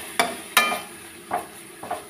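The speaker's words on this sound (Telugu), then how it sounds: "అన్నీ వేసి కలుపుకొని" A spoon scrapes and stirs aarti puvvu curry in a pan after coriander powder, coconut powder and coriander leaves go in, with four distinct scraping strokes spaced unevenly over a faint background sizzle and no talk.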